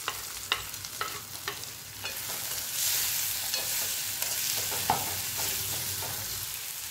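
Tomato and grated ginger stirred into onions frying in a pan, sharp scraping stir strokes at the start, then a steady soft sizzle rising, close and quiet with no voices.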